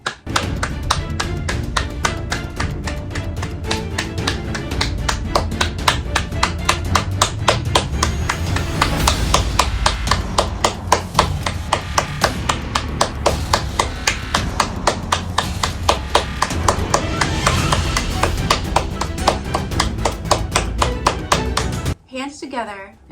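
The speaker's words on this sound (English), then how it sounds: "Now we're going to clap our hands for like 20 seconds or so" A group claps hands together as a practice exercise, a steady, dense run of sharp claps for about twenty seconds, loud and close, stopping abruptly at the end.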